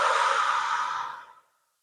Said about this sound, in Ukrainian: І такий же спокійний видих.